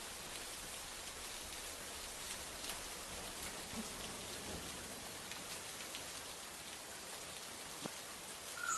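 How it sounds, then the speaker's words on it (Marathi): Heavy monsoon rain pours down over the Sahyadri hills of Sindhudurg, a dense steady hiss of falling water with scattered droplet patter and no pauses. "सिंधुदुर्ग जिल्ह्यात कालपासूनच सह्याद्री पट्ट्यात मुसळधार पाऊस कोसळतोय"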